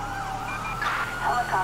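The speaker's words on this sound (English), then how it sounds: "You hear the sirens, buddy." A wailing police siren in GTA 5 sweeps up and down over a low engine rumble, loud and close, in a short burst.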